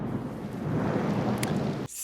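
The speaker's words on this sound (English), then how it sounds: "Still raining in Miami." Heavy rain and rumbling thunder from a film scene in rainy Miami, a loud, dense downpour with a deep continuous roll that cuts off abruptly near the end.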